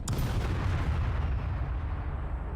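Enemy mortar fire in the Call to Arms war game lands as a heavy, booming blast that rolls and rumbles low before fading.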